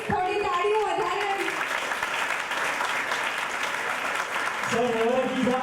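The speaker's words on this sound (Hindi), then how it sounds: "थोड़ी तालियों" Audience applause greets a guest called to the stage at a community felicitation event, a steady wash of clapping lasting several seconds, with a voice speaking briefly at the start and again at the end.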